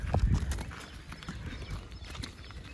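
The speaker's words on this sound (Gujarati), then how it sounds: "તો આપણે વછેરીને દોરીમાં નાખતા હતા ને બીજી ઘોડી આવી ગઈ પાસે" Horse hooves clip-clop close by as a filly is being roped, with another mare standing near; the hoofbeats are heaviest at the start, then continue as softer, scattered thuds.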